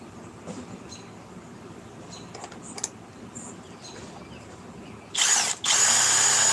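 A power drill bores holes into wood after quiet handling noises, two loud, close whirring bursts near the end, the second running on steadily without talk.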